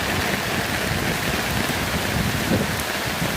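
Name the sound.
heavy rain and strong wind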